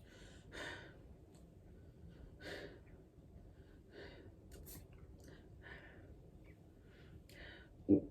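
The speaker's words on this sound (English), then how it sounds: "I will be listening to the patient's breathing sounds." A patient's slow, soft breaths drawn in and let out at a steady pace, quiet and close, with a faint low background hum and a brief bump at the end.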